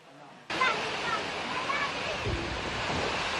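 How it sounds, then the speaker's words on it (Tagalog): Heavy rain pours down in Uson, Masbate during Typhoon Aghon, bursting in abruptly as a dense, loud, unbroken hissing roar that holds steady to the end. "Ang buhos ng ulan sa barangay Poblasyon sa Uson, Masbate."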